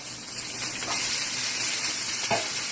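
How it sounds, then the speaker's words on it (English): Garlic, onions and sweet pepper sauté in a hot pan for sweet and sour pork, giving a steady, close hiss of sizzling with a soft clatter near the end. "I'm going to saute the garlic."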